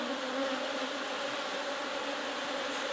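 Honeybees swarm around an opened beehive being split, a dense steady buzzing drone close up, constant and fairly loud with no voices.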